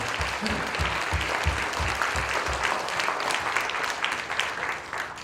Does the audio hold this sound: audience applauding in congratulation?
yes